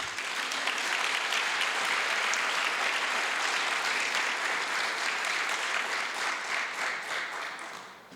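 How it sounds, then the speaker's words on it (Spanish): Audience applause fills a hall at the closing of the 9th Free Trade Zones Congress, a dense, steady wash of many hands clapping for about eight seconds before easing off at the end. "Yo creo que le podemos dar un aplauso"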